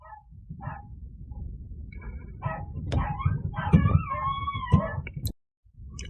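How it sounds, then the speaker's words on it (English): Dogs whimper and yip in short bursts, rising into a drawn-out howl-like whine, fairly close, before cutting off abruptly. "We have dogs and stuff, so if you can hear barking, that's what that is."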